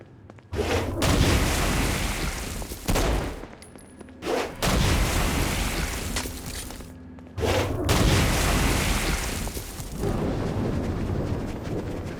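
Stone Blast explosions go off in Saints Row: Gat Out of Hell, heavy booms mixed with bursts of gunfire that come in several loud waves with short gaps between them.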